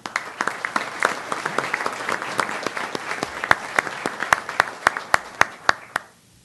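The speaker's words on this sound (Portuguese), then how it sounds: "A eles eu peço uma merecida salva de palmas." Applause from an audience at a tax officials' gathering in Rio Grande do Sul, starting as a smattering and settling into sharp, fairly sparse individual claps that taper off and stop just before the end.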